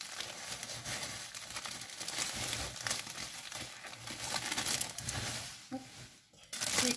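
Sticky tape being pulled and peeled off a plastic stamp storage binder, making close, continuous crinkling and crackling with small tearing bursts and a brief pause near the end.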